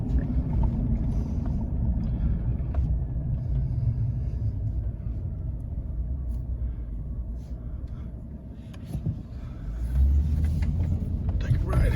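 A Chevrolet Silverado Z71 pickup drives along with a low rumbling engine and road noise, the drone dipping and rising again as the transmission shifts up through the gears, with someone talking over it.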